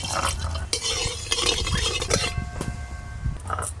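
Whole spices (bay leaves, dried red chilies and cumin) crackle in hot mustard oil as a pan is stirred, a busy close sizzle with scraping and a brief metallic clink.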